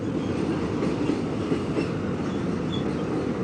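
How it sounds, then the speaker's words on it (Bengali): The Sealdah–Silchar passenger train rolls past close alongside on a route from Kolkata toward Darjeeling, a loud, steady rumble of wheels and carriages continuing without a break. "পাশ দিয়ে ট্রেন আসছে, দেখা পেলাম।"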